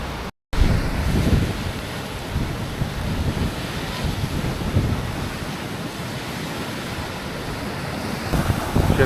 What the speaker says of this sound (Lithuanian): jūra tai taip neramis